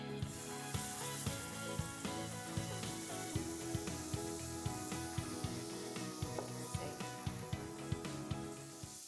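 Milk going into a hot pan for white sauce, sizzling and hissing steadily throughout, with a dense frying crackle under light clatter and no speech.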